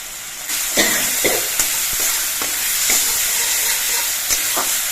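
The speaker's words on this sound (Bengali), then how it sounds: "এবার নেড়ে করে মিশিয়ে নিয়ে মশলাটা আরও একটুখানি সময় কষিয়ে নিতে হবে" A spice paste cooked with sugar for a vegetarian banana curry sizzles and hisses loudly in oil in a pan. Scrapes and taps from stirring recur throughout, close up, with no talking.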